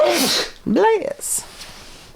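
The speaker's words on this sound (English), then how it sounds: "You got actual sneezes." A single loud, close sneeze, followed by a brief voiced sound and a short hissy breath afterward.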